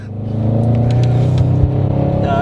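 A 750 BHP Audi RS6 pulls hard under full throttle, a loud, steady low engine roar heard from inside the car with a faint rustle over it.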